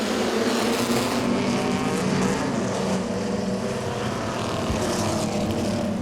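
Steady roar of several Pro Six race car engines revving together as the green flag starts a race at Langley Speedway, loud and continuous with a dense mechanical drone and no voices.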